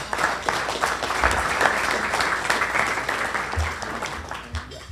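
Audience applause at a Tiger Bay legislative update event, dense and steady clapping from a room full of people lasting several seconds, with a few low thumps underneath.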